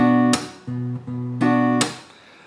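Strummed acoustic guitar chords ring out between two sharp percussive pops as the fingers slap down to mute the strings, a rhythmic close-up pattern with no voices.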